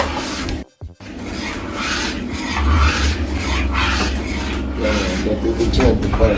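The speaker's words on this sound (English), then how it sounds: "Keep on stirring porridge, you know?" Porridge being stirred in a pot, with the spoon making a continuous loud rasping scrape across the base. The scraping is broken once by a brief gap near the start, and speech runs over it throughout.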